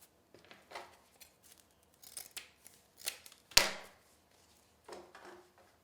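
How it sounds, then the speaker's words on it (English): Scissors snip through ribbon in a quiet room during a Hot Cocoa wreath craft session, giving several short crisp cuts spaced irregularly, with one louder, sharper snip near the end. "So I'm going to finish cutting up my ribbon."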